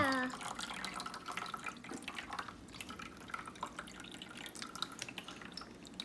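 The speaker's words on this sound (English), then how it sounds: "Yes, the water is leaking." Water leaking and dripping from a punctured plastic Ziploc bag, with irregular soft drips and splashes on a light trickle, fairly close and quiet, a brief voice at the start.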